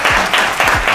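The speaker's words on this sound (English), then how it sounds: "please clap for her" Audience applause at a dating show, a steady wash of clapping from a crowd filling the whole moment, loud and continuous with a few low thumps underneath.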